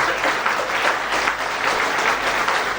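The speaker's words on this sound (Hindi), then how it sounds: "हम लोग तालियों से स्वागत करें।" Steady audience applause fills a felicitation function honoring an IAS officer, a dense, even wash of many hands clapping close by with no talk over it.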